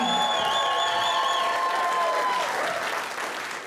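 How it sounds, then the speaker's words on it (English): Sold-out concert crowd applauding and cheering for a country singer's hometown show, a dense sustained roar of clapping with whistles and shouts, loud and steady before slowly easing off. "Give yourself a round of applause for selling this thing out, everybody"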